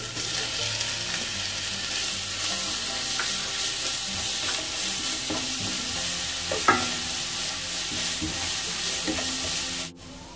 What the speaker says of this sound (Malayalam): വെളുത്തുള്ളിയുടെ ഇഞ്ചിയുടെ പച്ചമണം ഒന്ന് മാറുന്നത് വരെ വഴറ്റിയെടുക്കണം.